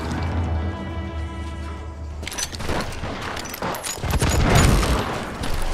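Gunfire breaks out in the Wild West shooter Call of Juarez Gunslinger. Sustained music gives way after about two seconds to a rapid, loud barrage of overlapping shots and booms that continues to the end.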